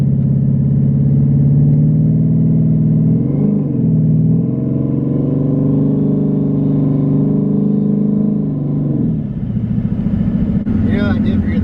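A 1000hp twin-turbo Ford Mustang makes a loud, sustained engine drone heard close up during a pull. The pitch stays mostly level with a brief wobble, then the tone shifts and roughens near the end.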